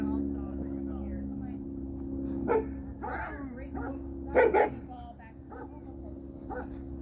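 Dogs bark in short separate bursts across an outdoor dog park, a few loud close yaps and whimpers standing over a steady low hum, with people talking nearby.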